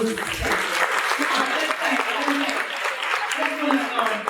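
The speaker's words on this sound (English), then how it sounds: "You're going to give him a round of applause." Audience applause at an alumni speaker series event, a sustained burst of clapping from a crowd, fairly close, with voices mixed in underneath.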